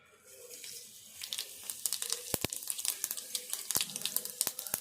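Mustard and other tempering spices crackle in about a spoonful of hot oil for a curry, with a quiet start that gives way to dense, irregular popping and sharp close splutters.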